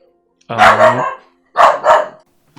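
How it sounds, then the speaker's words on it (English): A dog barks loudly nearby in an indoor setting. A single bark is followed by a quick double bark, with no one talking. "That's my dog letting off some barks"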